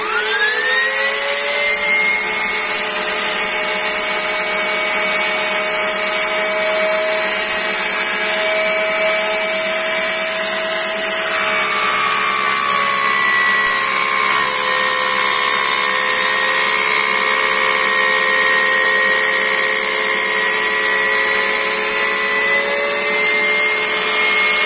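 A wood lathe turning and rounding a piece of wood with a router bit, giving a loud, continuous high whine with shifting tones as the cut changes, running steadily throughout with no talk.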